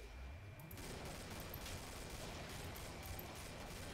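Dense, continuous gunfire from the Killing Floor video game, a sustained fusillade filling the whole stretch at steady loudness with no pauses and no talk over it.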